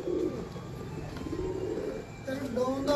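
A breeder's pigeon coos in low repeated rolls close by, joined near the end by a brighter call over background voices.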